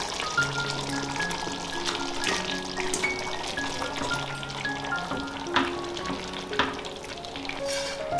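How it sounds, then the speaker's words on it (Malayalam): Cooked tapioca (kappa) tipped into a pan of cooked beef for kappa biryani, giving a steady close sizzle and frying hiss with soft stirring and scraping throughout, no talking. "ഇതിലേക്ക് നമ്മുടെ കപ്പ തട്ടി കൊടുക്കാം."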